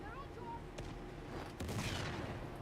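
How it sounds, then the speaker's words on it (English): Silenced pistol shots in the video game Uncharted, heard as soft, muffled bursts amid a steady background of game sound, with a sharper crack near the end. "silence pistol is great for getting headshots"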